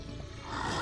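Zombies growling and roaring in the survival game SurrounDead, a short rough snarl that swells louder toward the end, with no talk over it.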